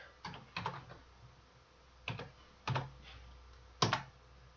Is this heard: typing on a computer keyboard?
yes